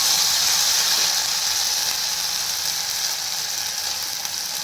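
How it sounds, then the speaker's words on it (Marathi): Finely ground chutney with turmeric frying in hot oil, a steady bright sizzle that holds loud and unbroken throughout, with no one talking. "ही बारीक केलेली चटणी फ्राय होईपर्यंत छान तेल सुटेल तोपर्यंत होऊ द्यायची"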